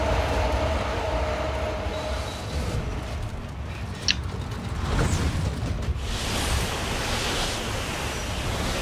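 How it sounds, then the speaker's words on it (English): Train ride in the sci-fi horror game Dead Space 2: a loud, continuous rushing rumble of a moving train carriage with steady rattling, a sharp metallic clank around the middle and a brief swell of noise afterward. "So we just need to chill out on the train, I guess."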